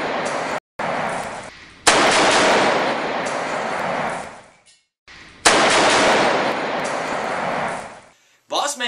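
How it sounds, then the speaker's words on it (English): AK-47 rifle firing in long, loud, rapid bursts, two sustained volleys separated by brief silences, close and harsh, with a short trailing noise at the end. "This is my AK-47, and today I get to shoot my boss."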